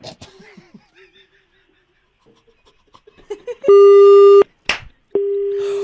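A few quiet words and a soft laugh, then a loud, steady telephone busy tone sounds twice with a short gap between, after the other caller hangs up.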